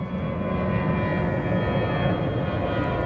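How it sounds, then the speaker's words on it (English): Steady, loud roar of airplanes passing overhead, a continuous broadband engine drone with no breaks and no speech. "Planes overhead."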